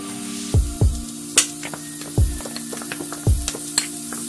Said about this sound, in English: Adding the onions.